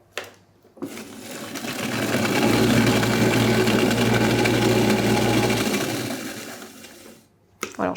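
Food processor mixing hazelnut praliné with cereal and fleur de sel, a steady motor whir that ramps up, holds for several seconds and winds down, bracketed by brief clicks.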